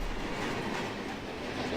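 Train rolling along in the Run8 railroad simulator game, a steady, dense rumble with a continuous rail roar and faint wheel noise throughout, fairly close and with no voices.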